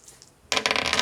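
Dice tossed onto a hard surface in a classroom, a sudden clattering burst of rattling bounces and rolls that follows near-silence and continues for about half a second, close and fairly loud.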